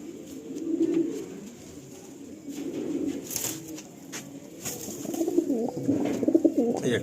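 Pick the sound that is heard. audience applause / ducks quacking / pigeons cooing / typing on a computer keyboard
pigeons cooing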